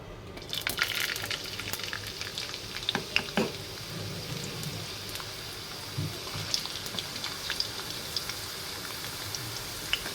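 Ingredients fry in a little oil for noodles, a continuous crackling hiss peppered with small pops and spits, fairly quiet and close with no talking.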